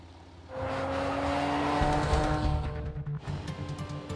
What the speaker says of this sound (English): the vehicle's about to be started for the first time and driven off